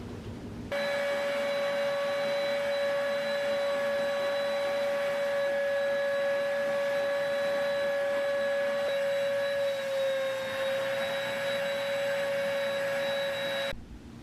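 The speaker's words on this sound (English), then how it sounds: "now I'm just gonna go ahead and just vacuum up just the stuff that I put on the carpet" A vacuum cleaner starts up and runs steadily on carpet with a high, whining motor tone, its pitch dipping briefly as it moves, then switches off.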